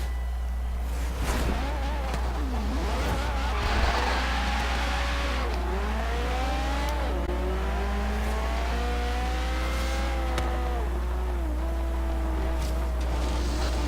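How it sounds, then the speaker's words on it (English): A car drifting around corners in a racing video game, its engine revving and whining with rising and falling pitch as it slides, steady and close over a constant low hum. "If you're into drifting, this is a fun track to try and do drift racing on."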